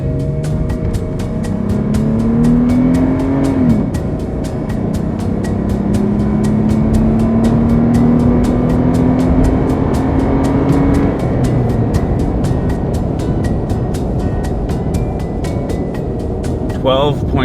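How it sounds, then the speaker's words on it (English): A supercharged, fully loaded 5th gen Toyota 4Runner on 33-inch tires with steel bumpers and roof rack pulls hard from a standstill to 60, engine droning loud and rising through gears with voices talking over it. "We're gonna do 0 to 60 right now from a dig."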